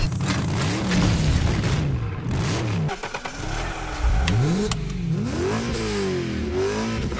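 A Ford 1.0 EcoBoost 998 cc three-cylinder car engine revving up repeatedly, with rising and falling swells and a brief dip in the middle, heard close and alone without talk.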